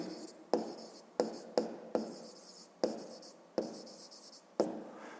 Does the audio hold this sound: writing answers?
yes